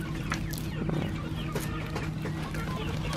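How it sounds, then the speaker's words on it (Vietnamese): Chickens cluck in a crowded coop out in a field, several birds close by with repeated short clucks over a steady background. "Bên này một chuồng gà luôn, rất là nhiều gà"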